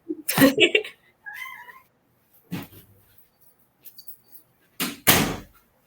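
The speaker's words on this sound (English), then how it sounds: "Let me let this cat out." A house cat meows loudly up close as a door is opened to let it out. Another short meow and door sounds follow, with soft voices in between.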